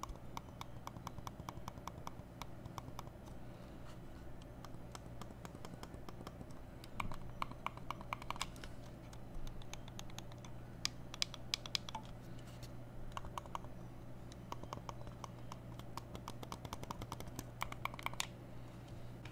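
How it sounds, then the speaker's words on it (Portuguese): Logitech M590 computer mouse, the older model, clicking repeatedly in quick irregular bursts of light, sharp clicks over a faint steady background hum, close and alone without speech. "E agora vamos lá para o clique do M590, que é o antigo."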